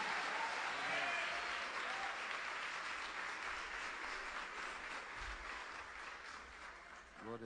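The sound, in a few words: church congregation applauding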